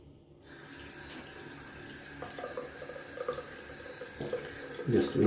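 Hot tap water runs into a sink while a shaving soap tub is rinsed, a steady close splashing wash that swells and grows busier toward the end.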